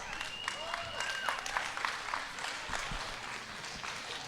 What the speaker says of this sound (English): go ahead and give these showmen a round of applause.